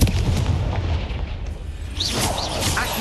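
A Confringo spell explodes in the Hogwarts Legacy video game: a heavy, booming blast with a low rumble, followed by a whooshing burst near the end.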